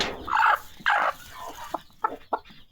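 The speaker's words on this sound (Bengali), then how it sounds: "এই যে আমার মুরগিটা, এটাকে বসাইছি।" A hen on a poultry farm gives several short, close clucks in uneven bursts, loud at first and then softer, with no talk over them.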